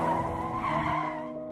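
Car tyres skidding hard on the road in a loud, continuous squeal that fades slightly toward the end, with no crash impact heard and no speech.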